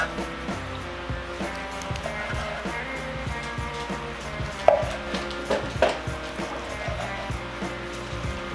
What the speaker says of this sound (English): I'm gonna slice this bad boy up.